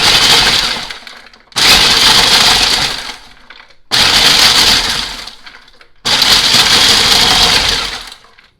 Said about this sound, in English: I'm going to put like a half a cup in a food processor and make them into breadcrumbs